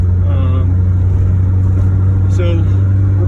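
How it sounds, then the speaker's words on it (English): A 1986 Honda CRX's exhaust drones at a low, steady pitch from inside the car while driving between gear shifts, fairly quiet, with brief faint voice sounds over it. "you might hear a little bit of the exhaust noise, not real loud"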